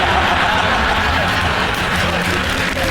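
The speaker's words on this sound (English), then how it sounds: "Oh, don't applaud" A studio audience applauding on a comedy panel show, a thick continuous roar of clapping heard loud and close throughout.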